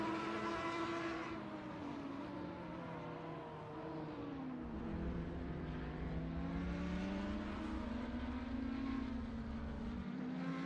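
GT3 race cars lapping Mid-Ohio in a racing video game: a continuous engine drone whose pitch rises and falls as the cars shift and pass, loud and steady with no voices over it.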